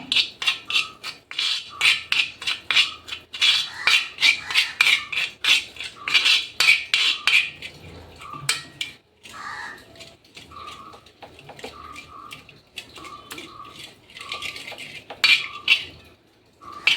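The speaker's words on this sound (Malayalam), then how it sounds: "നല്ല രീതിയിൽ ഞാനൊന്ന് മിക്സ് ചെയ്തെടുത്തു" A spoon mixes a hair-dye paste with plain water in a bowl, making rapid, rhythmic metallic clinks and scrapes that are loud and close at first, then slower and sparser, with faint bird calls behind.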